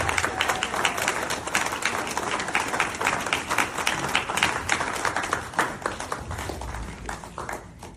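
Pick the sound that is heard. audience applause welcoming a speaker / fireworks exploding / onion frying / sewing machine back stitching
audience applause welcoming a speaker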